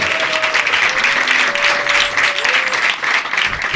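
Audience applause at a stand-up comedy show, a steady dense clapping from a crowd that holds loud and even throughout, with faint voices and a few whistles or cheers poking through.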